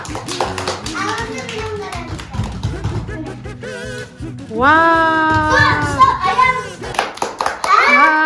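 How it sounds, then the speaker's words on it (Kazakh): Children clap their hands in quick, uneven bursts during the first half at a clown show, with excited kids' voices and shouts rising loudly over the clapping later on. "балалар, кән шапалақ ұрып отырамыз, шапалақ."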